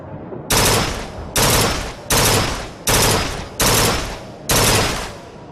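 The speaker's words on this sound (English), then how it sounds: "So this is the burst gun." Burst gun firing in BioShock Infinite, six loud evenly spaced bursts of rapid shots, each trailing off before the next, close and punchy with no talking.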